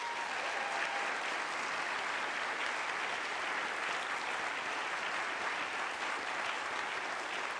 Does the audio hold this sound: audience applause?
yes